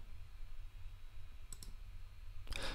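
Computer mouse clicks on an add button come as two sharp, quiet taps near the middle, followed by a louder click near the end over a low background hum.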